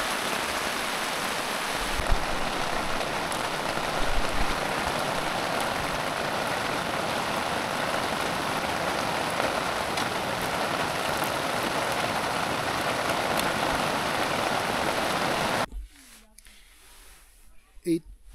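Rain beats on a tent at a high lake campsite with a dense, steady hiss for most of the stretch. It stops abruptly near the end, leaving near quiet with a few faint knocks.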